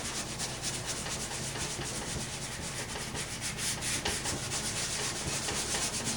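Paintbrush scrubbing paint across a canvas in an atmospheric landscape painting lesson, a steady close, continuous rubbing texture with fast rhythmic strokes and no talk.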